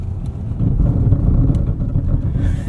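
A 2024 Mazda3 2.5 S Premium with a manual gearbox and front-wheel drive pulls away on a snowy, icy road on all-season tires, its engine a low steady rumble rising gently as it moves off, heard from inside the car.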